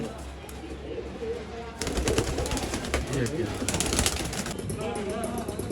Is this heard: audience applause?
no